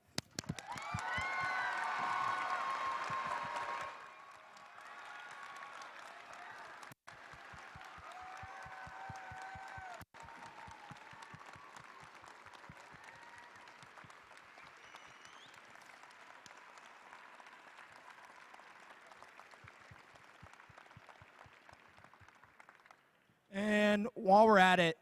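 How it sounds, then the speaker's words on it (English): A crowd at a state championship event breaks into applause for the executive director, starting loud and full, then settling into a long, softer stretch of steady clapping before a brief louder burst at the end. "I want everyone here to give a round of applause for our awesome Executive Director"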